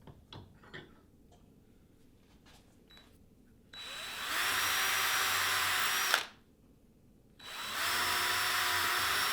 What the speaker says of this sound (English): so that I could drill holes into the plastic